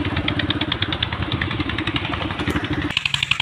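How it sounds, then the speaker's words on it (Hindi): A tractor's diesel engine chugs steadily with a rhythmic knocking beat, loud and close, briefly changing tone near the end; the tractor is running in third gear. "भाई तीसरे में चला रखा जगदीश भाई ने ट्रैक्टर"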